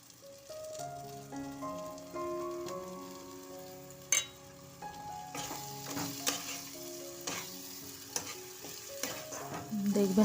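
Mushroom paneer masala with cream being stir-fried in a pan, with a soft, close sizzle under repeated spatula scrapes and clinks, and a sharp knock near the middle.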